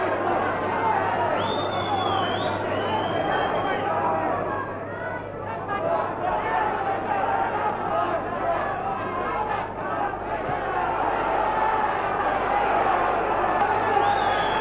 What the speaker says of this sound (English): Just listen to the way this crowd is cheering these two home.